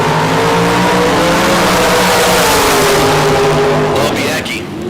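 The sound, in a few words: bantam dragster launching hard off the starting line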